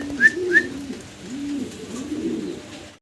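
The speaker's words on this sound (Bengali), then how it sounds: "একদম ডিম বাচ্চা করা রানিং কবুতর" Modena pigeons on a pigeon farm coo in soft, low rolling phrases, repeated several times at close range, with a couple of brief high chirps early on.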